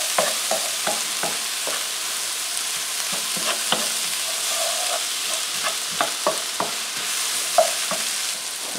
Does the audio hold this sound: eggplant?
yes